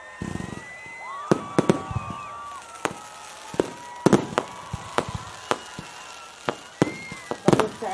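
Fireworks at a Loy Krathong festival opening ceremony in Chong Sarika, Lopburi, Thailand burst repeatedly, sharp bangs at irregular intervals with crackling and whistling rising between them, loud and fairly close.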